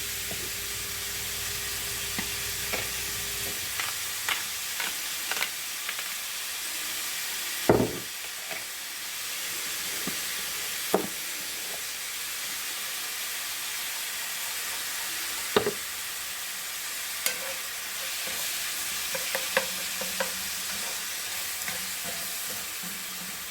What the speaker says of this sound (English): add a little bit of salt and pepper while this is frying up